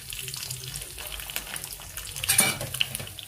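Green chillies fry in a pan with a soft, crackling sizzle, broken by faint clinks of a utensil against the pan and a brief louder burst of spattering.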